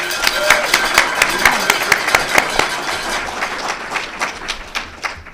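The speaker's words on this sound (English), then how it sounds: "please applaud our 2022 White House Communications Agency Hall of Fame inductee, Chief Master Sergeant Marcus Joseph." An award ceremony audience applauds a Hall of Fame inductee with dense, steady clapping throughout, slowly thinning toward the end.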